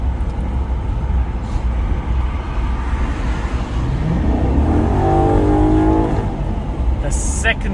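High mileage Maserati accelerating through second gear, a steady loud engine drone heard from inside the car with the pitch rising as it revs, under a person talking.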